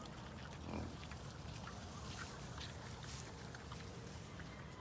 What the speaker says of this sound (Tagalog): So ito po ang ating bulugan. Cross po yan ng Pampanga Native Cross Quezon Black.